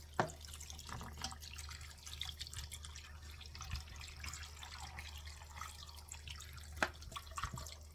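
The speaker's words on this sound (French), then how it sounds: "je mets l'équivalent d'1 litre d'eau" Water poured into a pot while making blackberry jam, a soft steady running and splashing at low level, with a few small clinks and drips standing out.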